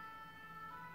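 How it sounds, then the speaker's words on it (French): An ambulance siren outside holds a faint, steady wail in the background, distant and unbroken, with no voices over it. "il y a encore une ambulance"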